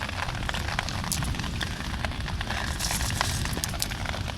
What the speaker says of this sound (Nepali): असिना यत्रो ठुल्ठुलो आइरहेछ